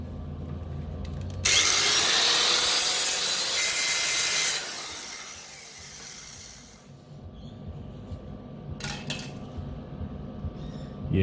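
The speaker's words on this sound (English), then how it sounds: "Grind it and see how good it looks." Metal grinder working over a weld seam in a welding workshop, a loud harsh abrasive whine for about three seconds, then fading into quieter scraping and short rough bursts.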